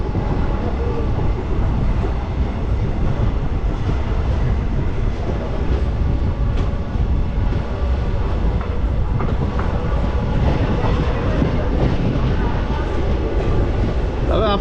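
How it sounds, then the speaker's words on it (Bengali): A passenger train runs from Raiganj toward Siliguri, its steady rumbling roll and faint clickety-clack of wheels on rails filling the whole stretch at constant loudness, heard from inside a carriage. "7:26-এ রায়গঞ্জ থেকে ছেড়ে দিল আমাদের শিলিগুড়ির উদ্দেশ্যে এই ট্রেন।"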